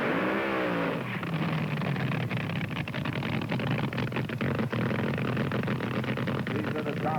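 A 1971 top fuel dragster with a blown nitromethane engine, rated at 1,500 horsepower, roars hard and loud as it accelerates at an NHRA Supernationals drag race. The rising engine howl holds steady and dense through the whole stretch.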